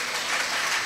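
A congregation at a Telugu Christian devotional gathering claps in praise, a brief, even patter of many hands blended into a continuous crackling wash with no voices.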